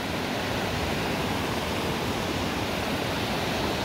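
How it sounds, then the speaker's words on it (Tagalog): Water from a mountain spring near a river runs as a steady, dense rushing hiss, constant and fairly close, with no voices over it. "Guys, may daanan ng tubig, oh."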